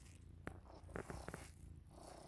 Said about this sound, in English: And fierce purring.